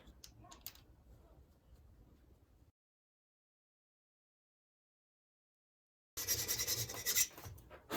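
Half-moon mini file rasping on a Harley flathead engine valve part, close and quiet at first, then a gap of silence before louder, bright scraping strokes return at the end.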